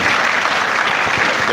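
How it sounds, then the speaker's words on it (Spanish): A crowd at a panel discussion applauds steadily, dense clapping filling the room at full volume throughout. "Un fuerte aplauso."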